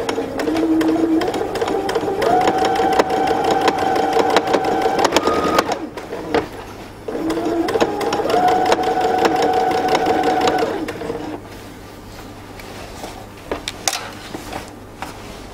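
A sewing machine stitches the waistband of drawstring pants in two steady, buzzing runs of several seconds each, separated by a short pause, then goes quiet apart from faint handling clicks.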